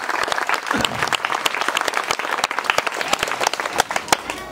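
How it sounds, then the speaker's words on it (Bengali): Crowd applauding a ward member at a school's annual sports competition, a burst of many hands clapping close and lively with uneven rhythm, a few voices mixed in. "তোমরা সবাই একটা হাততালি দাও"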